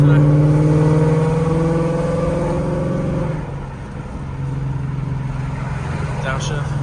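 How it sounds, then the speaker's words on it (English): A Ford Mustang GT with an aftermarket exhaust revs and drops in pitch as the gears shift down, exhaust burbling, with someone talking over it in traffic. "Downshifts are just so nice. It's like music to my ears."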